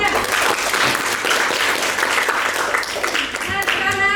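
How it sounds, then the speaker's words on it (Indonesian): Audience clapping after a group presentation in a chemistry classroom, steady dense applause filling the whole stretch, close and fairly loud, tapering slightly near the end. "Kasih aplaus semuanya."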